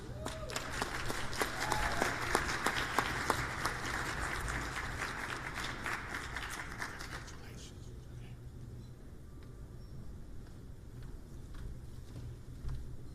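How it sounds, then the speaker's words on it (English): Audience applause at a HOPE Global Forums 2023 event session, given for newly welcomed partners: a loud, dense crowd clapping for about seven seconds, then tapering into quieter room noise with faint scattered sounds. "So let's give our partners a round of applause."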